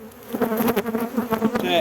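Honey bees crowding over a full hive frame of nectar, honey and pollen in a strong March colony, giving a steady, close, dense buzzing hum with no talk.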